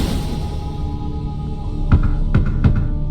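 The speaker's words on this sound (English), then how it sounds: "For now, a knock will suffice." Three dull knocks on a wooden barrel in The Witcher 3: Blood and Wine, arriving in a quick, uneven cluster after a stretch of steady low background hum, fairly close and moderately loud with no talking.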